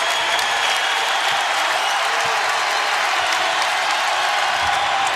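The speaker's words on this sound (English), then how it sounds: "Armstead can't quiet the crowd." Dense, steady roar of a basketball arena crowd cheering and applauding at a Northern Iowa Panthers game, loud and continuous throughout.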